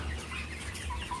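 Two-month-old laying hens cluck softly inside a coop housing about 200 birds, a low, continuous murmur of overlapping calls with no voices.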